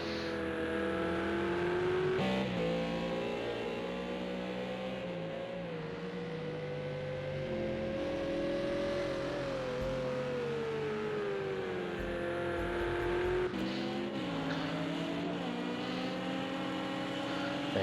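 GT3 race cars, including a Ferrari 458, run at Mount Panorama Bathurst in a racing sim, with a steady engine drone rising and falling through gear changes and two sharp shifts along the way.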